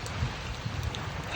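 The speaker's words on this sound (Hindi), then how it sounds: "अब बारिश होते" Rain falling at night during the Saraipali rath yatra, a steady, even hiss of water with a low rumble beneath it and no voices.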